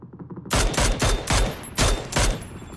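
Gunfire in PUBG: after a brief quiet lead-in, five or six loud, sharp bursts of rifle fire ring out in quick succession, close and punchy with short gaps between them, no talking.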